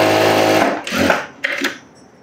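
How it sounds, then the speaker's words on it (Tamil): Sewing machine stitching a side seam on a garment, a loud, fast mechanical whirr that runs for under a second and stops, followed by a couple of short handling rustles nearby. "இப்போ நம்ம சைடு அப்படியே தையல் போட்டுடலாம்"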